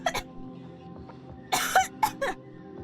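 A person lets out a few short, sharp coughs, one at the start and then a quick cluster of three or four, close and fairly loud against a quiet room.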